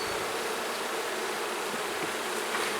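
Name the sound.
honeybees buzzing around a hive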